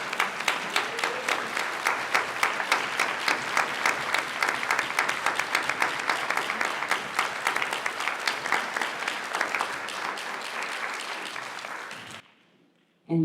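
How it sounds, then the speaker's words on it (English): An audience at a community event gives a standing ovation for panelists, dense sustained applause lasting about twelve seconds, loud and close, then cutting off abruptly into near silence. "I'd like to just invite a big round of applause and standing honoring of our panelists today"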